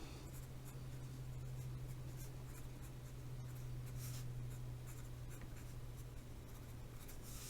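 A pen or marker scratches steadily across a writing surface as a polynomial function is written out by hand, a faint continuous scribble with small strokes and pauses over a constant low hum.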